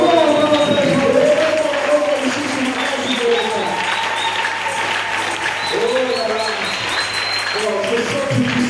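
A church congregation applauds and cheers as a steady wash of crowd clapping under a loud, amplified preacher's voice that carries over it for the whole stretch.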